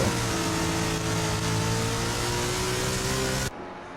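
A race car engine revs loudly and steadily at high pitch in the NASCAR Heat 5 video game, a sustained close roar with a slowly shifting tone that cuts off abruptly near the end.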